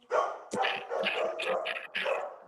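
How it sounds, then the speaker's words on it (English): A puppy barks in short, close yips that break into whimpers, several quick vocal bursts in a row. "Oh, it's just a pup."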